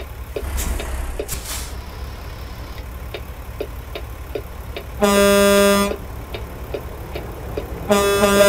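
A loud truck horn blares twice in a truck-driving video game, a long blast followed later by another, over a steady engine rumble with faint rhythmic clicks.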